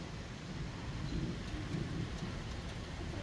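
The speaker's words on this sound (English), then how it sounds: "Yep, rain's coming." Steady rain patters outside in a backyard storm while faint, low thunder rumbles continuously underneath.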